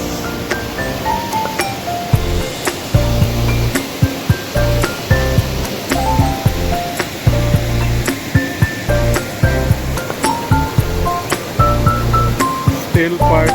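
Deep water churns through Maligne Canyon in a loud, constant rushing roar, broken by frequent sharp clicks and taps close by that sound like footsteps. Thin tonal chirps sit high above the flow.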